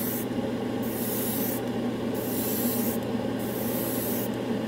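Airbrush spraying Badger Stynylrez primer onto a Gunpla model kit, heard as close continuous airy hissing that swells in repeated spray passes over a constant compressor hum.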